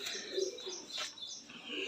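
Pigeons cooing at a breeder's loft among pairs kept for sale, soft low coos repeating close by over a bright background of chirps and twittering, with no talk.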